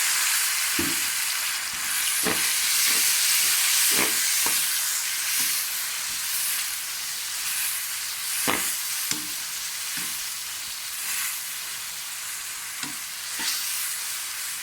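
Potatoes and okra frying with tomato paste in a pan, a continuous loud sizzle and hiss broken by repeated spatula stirs and scrapes at irregular intervals.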